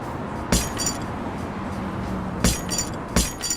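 Glass broken during a nighttime robbery attempt on a small store's ATM, with three sharp impacts and clinks standing out over a steady background hum.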